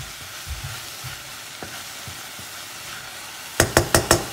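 Tart filling cooks gently in a pan over low heat, a faint steady sizzle with a few soft clinks, then a quick run of four sharp knocks of a utensil against the pan near the end.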